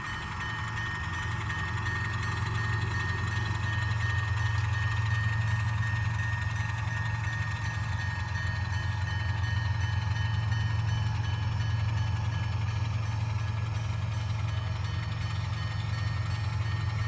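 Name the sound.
distant Norfolk Southern train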